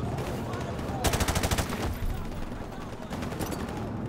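Rapid tank-turret gunfire in the Modern Warfare Remastered mission War Pig. It comes as a loud burst of fast repeated shots lasting about a second, set in a busy, noisy battle ambience.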